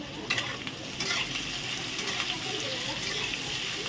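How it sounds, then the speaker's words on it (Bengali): Chicken marinade of salt and soy sauce being stirred with a little water, a steady wet swishing and scraping that continues throughout, with a few sharper knocks near the start. "আর একটু জল দিয়ে গুলিয়ে নিব"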